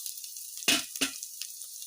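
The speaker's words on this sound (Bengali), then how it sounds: "এখন সবগুলো উপকরণ ভালো করে ভেজে নিতে হবে।" Ingredients including onion frying in a pan for a Bengali raw papaya and potato curry, with a soft steady sizzle broken by two louder bursts as the food is stirred or tossed.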